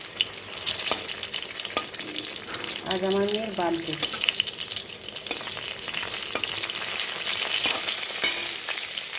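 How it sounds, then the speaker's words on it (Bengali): Bitter gourd and pointed gourd frying in oil, a continuous close sizzle with occasional clicks and spatters, while someone speaks briefly over it and a short tonal chirp sounds early on. "উচ্ছে পটল ভাজা হয়ে যাচ্ছে"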